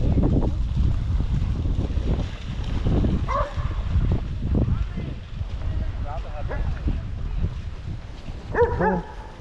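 Dogs at a beach inlet give a few short barks amid wind buffeting the microphone and lapping water, with a person's voice heard nearby.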